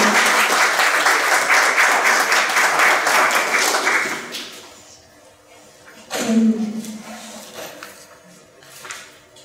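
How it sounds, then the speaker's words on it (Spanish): Loud, sustained applause from a university lecture audience fills the first four seconds, then fades out, leaving a quiet room with a brief thump and shuffling. "Fuertes aplausos, por favor."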